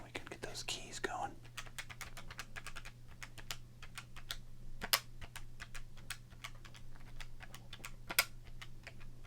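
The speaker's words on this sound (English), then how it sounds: "We got our handy-dandy calculator. And so we can get those keys going." Keys on a handheld calculator get tapped in a quick, steady run of light plastic clicks, soft and very close, over a faint hum, with whispered talk at the start.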